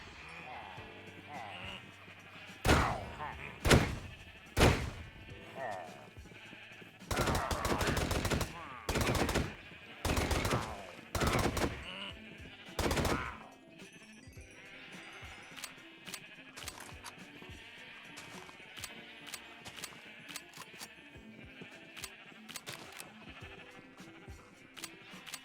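Sheep bleating in the Minecraft video game, several sharp bleats arriving in bursts amid loud game combat and effects, with smaller clicks and hits continuing afterward.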